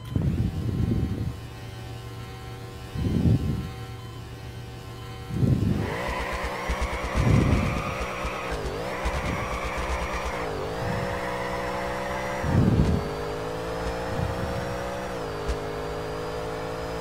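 A 1400hp twin-turbo Mustang races a tuned 1995 Volvo, engines droning and revving with rising and falling pitch, punctuated by several loud low bursts that swell and fade over a steady hum.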